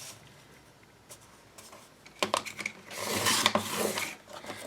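Scrap paper being cut down to a one-inch strip: a few light scrapes and taps, then a denser rasping, rubbing cut in the latter half, close and fairly quiet with no talk.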